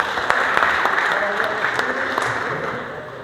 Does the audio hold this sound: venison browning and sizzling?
no